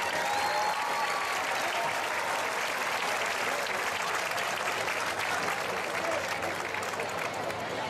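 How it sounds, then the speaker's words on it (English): A stadium crowd applauds the scholar athlete award winners at a high school football game, steady sustained clapping and cheering throughout, with faint voices and whistles mixed in. "Let's have a big round of applause for both of our Scholar Athlete winners tonight."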